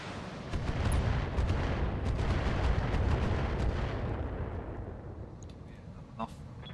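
Long-range missiles fired in a BattleTech mech battle unleash a loud, sustained rumbling barrage of overlapping blasts that gradually tapers off, ending with a short sharp pop near the close.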